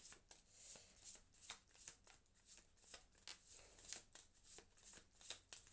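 Tarot cards being shuffled by hand, a soft, quiet, rhythmic run of riffling and flicking strokes repeating close up.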